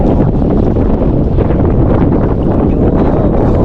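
Strong wind batters the microphone out on a small boat at sea, a loud, steady roaring rumble with continuous buffeting and no pauses.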